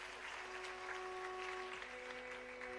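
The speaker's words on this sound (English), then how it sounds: "Can we have a louder round of applause for that cute performance of Medha's?" Audience applause following a young girl's Bharatanatyam arangetram dance recital, steady, moderately faint clapping from a seated hall crowd, continuous without talk.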